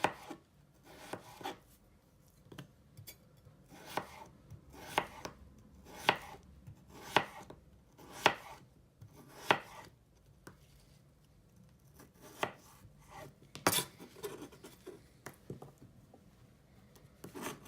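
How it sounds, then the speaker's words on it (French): A knife chops an onion on a board in irregular bursts of sharp, close taps separated by short pauses, fairly quiet overall with no speech. "Donc on coupe en deux et on coupe en morceaux."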